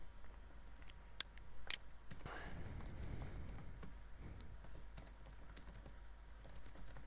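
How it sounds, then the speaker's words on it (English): Someone types on a computer keyboard while building an HTML page layout. The keystrokes are soft and irregular, a quiet spatter of close clicks over a low room hum. "I'm just going to type some stuff out"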